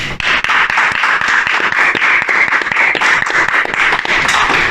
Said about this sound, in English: I think we can clap to that, yeah?